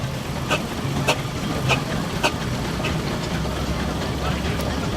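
A 1902 Aveling and Porter steam engine runs at a steam rally, a steady low mechanical rumble with faint periodic chuffs. Crowd chatter and voices continue underneath throughout.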